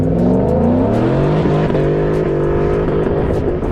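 A Ford Shelby car engine revs hard up close, a loud, continuous roar rising and falling in pitch with throttle blips, no voices over it.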